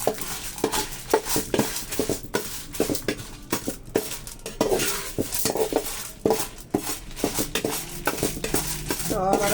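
Urad dal frying in a pan is stirred with a metal utensil, giving rapid, irregular clinks and scrapes against the pan over a soft sizzle, close up and continuous.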